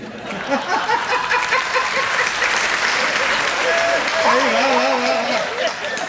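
A crowd applauds steadily throughout, a dense wash of clapping with some laughter and voices mixed in.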